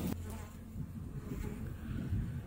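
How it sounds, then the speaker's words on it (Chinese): Honeybees hum softly and steadily during a hive inspection just after the colony is brought out of winter storage, a faint continuous buzz with no talking. "这是小蜜蜂"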